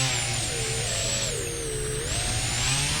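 Simulated engine drone of an E-flite Beechcraft D18 model plane in the RealFlight Evolution flight simulator, a steady buzzing whine with a gently rising and falling pitch, continuous and fairly loud throughout with no talking.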